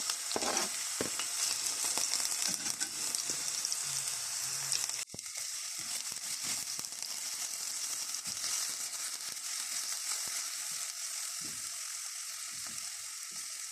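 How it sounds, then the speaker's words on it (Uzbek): Finely chopped onion frying in a hot skillet gives a steady, close sizzle throughout, with occasional stirring scrapes and one brief clatter partway through. "Qizib turgan skоворodkamizga bitta piyozni mayda qilib to'g'rab, solib qovurib olamiz."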